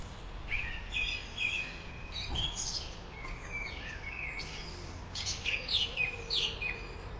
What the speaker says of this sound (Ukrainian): А птахи як гарно співають, просто послухайте.